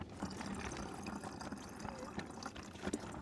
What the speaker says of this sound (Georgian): ეხლა ამას გადავიტან მათარაში და სასმელი წყალი გვექნება უკვე.